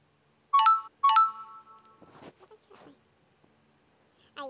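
Two short bright phone notification chimes ring close together near the start, followed by a person speaking briefly, then another soft chime at the very end.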